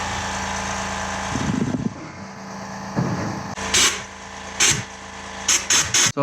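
Old gasket material is scraped off an engine part during an engine and transmission reinstall on a 2000 Honda Passport. Close, rough scraping strokes repeat at intervals, with sharp bright scrapes bunched toward the end over a steady background hum.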